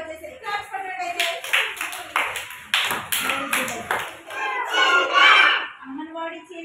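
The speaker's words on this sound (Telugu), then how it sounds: "క్లాప్స్ కొట్టండి అయితే" Anganwadi children clap their hands in several uneven bursts, nearby and fairly loud, with children's voices and chatter mixed in between the claps.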